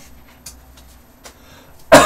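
A single sharp, loud cough bursts out at the very end, following a quiet stretch with a few faint clicks, all in an indoor lecture setting.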